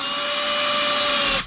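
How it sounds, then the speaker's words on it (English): A drill bit cuts steadily into a brake shoe rivet, giving a loud, continuous whining buzz with a steady pitch that stops abruptly at the end. "as we drill one of these out"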